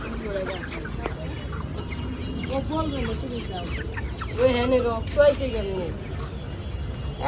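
Sonali chickens at a wholesale poultry market cluck and squawk in bursts nearby, under steady talk and market chatter.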